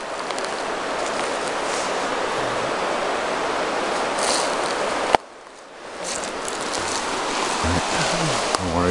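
A river rushes in a steady, loud wash of flowing water outdoors in remote country during a 4-wheeler ride, with a brief dip midway.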